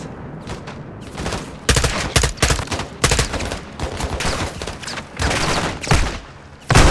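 Game gunfire in Modern Warfare 2 (2022): dense, rapid bursts of automatic fire and single shots crack back to back in a steady barrage, loud and close, with sharper louder volleys every second or so.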